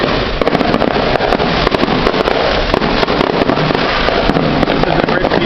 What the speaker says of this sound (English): You can't even hear myself talking because of the fireworks.